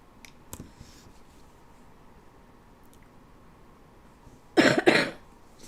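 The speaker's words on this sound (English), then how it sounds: "I still have that cough." Two quick, close coughs burst out near the end after a stretch of quiet room noise with a few faint clicks.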